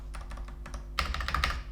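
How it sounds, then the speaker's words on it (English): Typing on a Ducky One 3 mechanical keyboard with Cherry Red switches: a quick run of close, crisp key clacks that thickens into a denser flurry of presses over a low background hum. "The sound is nice and the typing experience is also very good."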